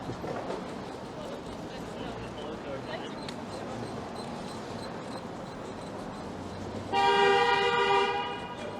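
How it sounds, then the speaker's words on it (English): A loud, sustained car horn blares for about two seconds over steady traffic rumble on a Toronto street, fairly close by, from a fast-driving car. "That guy just was like driving really fast and honked for no reason."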